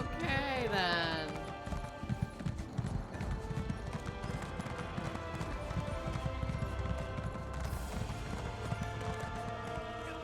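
A horse mount gallops in the video game Elder Scrolls Online, with steady rhythmic hoofbeats throughout and a whinny near the start, layered over game music with someone talking.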